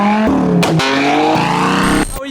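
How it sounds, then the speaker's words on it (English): A modified car leaving a Japanese car meet lets out loud exhaust revs with sharp pops and bangs, the engine note rising and cutting off abruptly in a short close burst. "Pop and bang."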